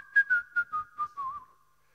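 A person imitates a whistle like one heard at a church gathering, giving six short, clear whistled notes that drift slightly lower in pitch, close and alone with no talking.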